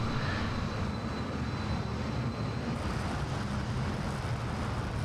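F-15 jet in Microsoft Flight Simulator 2020, a DC Designs addon, throttled back into a dive, giving a steady, loud broadband engine roar with a rumbling low end that continues unbroken throughout.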